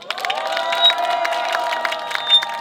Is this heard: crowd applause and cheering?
yes